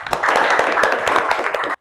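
Applause from a classroom group of students, many hands clapping quickly and unevenly in a close, lively burst that stops abruptly after almost two seconds.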